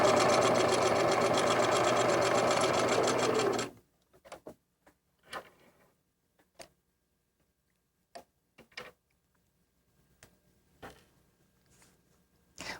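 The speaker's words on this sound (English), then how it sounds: "Lower your needle into the fabric, back tack, and continue sewing." A sewing machine runs a straight stitch through quilt fabric pieces in one steady, loud burst lasting several seconds. It stops abruptly, and scattered soft clicks and handling taps follow in near silence.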